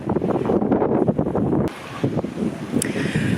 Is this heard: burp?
no